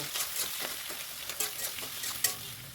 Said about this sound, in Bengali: আর এই গরম তেলের মধ্যেই ফোড়নে দেব গোটা জিরে এলাচ লবঙ্গ তেজপাতা আর কুচি করে রাখা পেঁয়াজগুলো এবার ভালো করে নাড়িয়ে চাড়িয়ে এটা ভেজে নেব